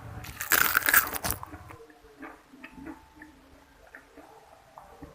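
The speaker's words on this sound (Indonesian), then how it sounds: "buat bakwan sayur yang lebih hemat minyak goreng dan juga renyah banget" A crisp bite into a crunchy Indonesian vegetable fritter, bakwan sayur, gives a loud, close crackling crunch near the start, followed by fainter chewing and small crackles.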